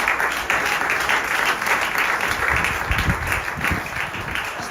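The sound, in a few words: congregation applauding in church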